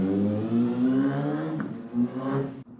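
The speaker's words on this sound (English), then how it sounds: "Fred has just passed through on his motorbike, but he's actually going to be shooting off now." A motorbike revs and rides off nearby, its engine note rising and surging over nearly three seconds with no one talking.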